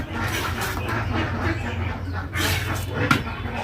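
Ducks and chickens calling nearby on a rural homestead, short intermittent quacks and clucks over a low steady background hum, fairly faint and close.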